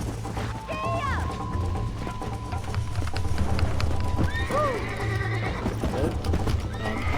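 Horse hooves clip-clop at a gallop in the Red Dead Redemption video game, with two loud, sweeping neighs and whinnies cutting through the steady hoofbeats and a low background hum.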